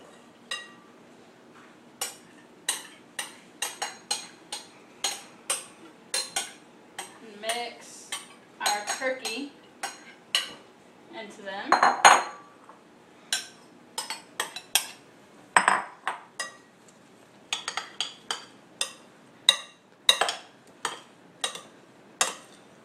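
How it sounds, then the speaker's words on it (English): Vegetables for a turkey pot pie get stirred in a bowl with a metal utensil, producing a long run of close, irregular clinks and scrapes against the dish, with a few brief pauses and no clear speech. "we're going to mix our ingredients together"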